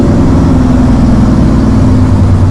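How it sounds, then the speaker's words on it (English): Loud truck engine on a heavy-hauling large-load run, a continuous low rumbling drone that stays steady and close throughout with no talk. "Not over this loud ass truck."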